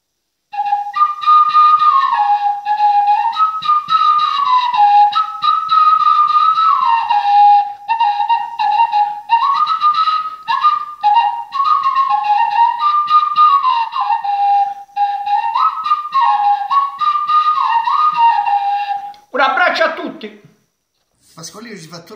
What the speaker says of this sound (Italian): fa sentire un po' di fischio, però non sono tanto bravo